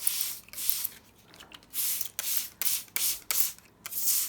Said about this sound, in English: So let's dampen the soil a little bit first with a spray bottle.